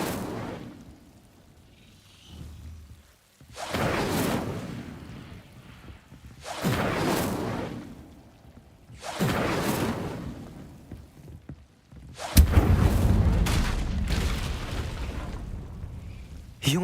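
Fire spells in Hogwarts Legacy erupt in several separate whooshing, crackling bursts, each a few seconds long with quiet gaps between, the last one louder and rumbling.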